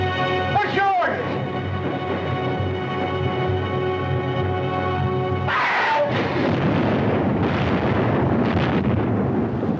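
Cannon fire from a ship at sea, heavy booming blasts and rumbling bursts, loud and continuous, with a sustained tone early on and people talking over the din.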